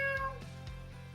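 A cat meows during a radio advertisement for an appliance store, a few short, close meows in quick succession over a low background.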